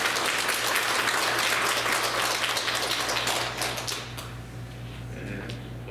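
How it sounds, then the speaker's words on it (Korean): A church congregation at a Sunday service claps together in a steady, dense wash of applause that fills the room, thinning and fading over the last couple of seconds. "그분들을 위해서도 박수 한번 하도록 하겠습니다"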